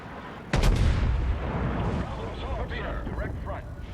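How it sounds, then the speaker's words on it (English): In World of Warships, the USS Texas battleship fires a full broadside: one huge, close cannon blast followed by rolling, rumbling echoes, while someone talks over the aftermath. "if I can get one more broadside into that Nagato, I'll be happy"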